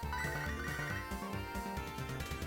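A phone ringing in the Pokémon HeartGold game, a busy chiptune ring tone over game music, continuous and fairly loud with no voices.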